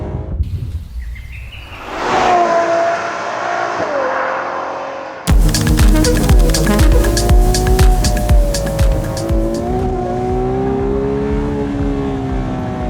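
A loud, close Ferrari 12Cilindri Spider V12 engine drones, then roars sharply into a high, rising rev toward 9500 rpm with a brassy, harmonic tone that holds and slowly settles.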